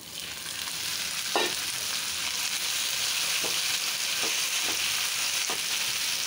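Cabbage with small shrimp frying in a pan, a constant sizzle broken by several soft scraping stirs spaced a second or so apart, no voices.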